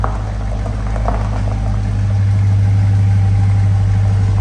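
A loud, steady engine rumble with a low idling drone holds throughout, close by and unbroken, with no voices.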